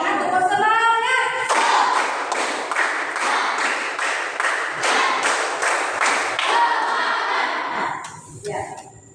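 A classroom of students claps a fast rhythmic spirit clap in unison, a run of loud, evenly spaced clap bursts with voices chanting along, then tailing off into a few scattered claps.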